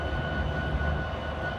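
Steady low rumble of an idling train locomotive coupled to a second engine facing backwards, loud and close, with a constant whine above it and no talk.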